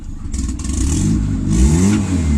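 A turbocharged Honda Civic D16 engine revs slowly and sluggishly. Its loud, steady drone climbs lazily in pitch, close and continuous, with no talking over it.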